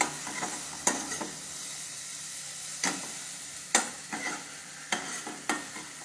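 A spice paste fries in a pan with a soft steady sizzle, broken by several sharp clinks and scrapes of a spoon stirring at irregular intervals, close and moderately quiet, no talking.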